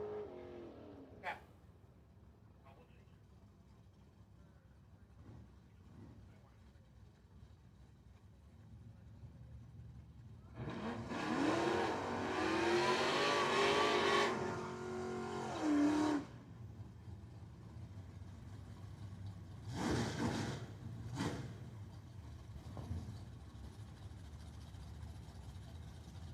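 A Ford Mustang and a WS6 Trans Am drag racing at a dragway, engines roaring loudly for several seconds mid-way, then short revving bursts later, over a quieter background with an announcer's voice.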